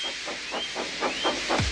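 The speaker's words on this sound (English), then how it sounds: "So they lit his fire, made lots of steam, and Edward puffed away" A steam locomotive puffs away under a steady hiss of steam, its chuffs coming in an even rhythm of about four per second, close and fairly loud, with a faint whistle-like tone above.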